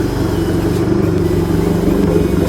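An Audi A1 exhaust, fitted flush in an S1 rear bumper, rumbles loud and close with a deep, steady drone and slight revving swells, no voices.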